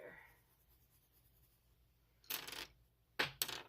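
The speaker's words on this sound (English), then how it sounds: "Oh, throwing pencils around." A couple of light clattering knocks of small objects dropping onto a hard surface, close and brief, separated by quiet.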